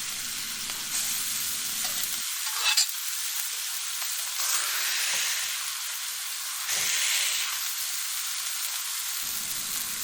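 Ground burger meat sizzling and frying in a hot pan for an Oklahoma fried onion burger, a steady bright crackle throughout with brief scraping bursts from a spatule stirring, close and loud with no talk.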